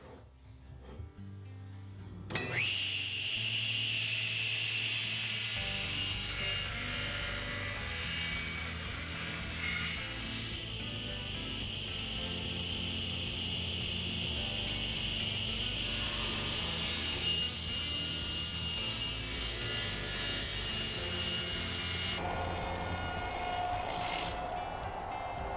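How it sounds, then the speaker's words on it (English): A table saw rips wooden boards lengthwise for window casing trim. The cut runs loud and steady for about twenty seconds, the blade pitch shifting as the wood feeds through, then winds down near the end. "So first I'll rip the boards at 2 5/8."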